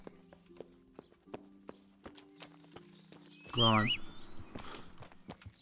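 A horse in the medieval game Kingdom Come: Deliverance clip-clops along with sparse, evenly spaced hoofbeats beneath faint background tones, while someone speaks briefly and loudly midway.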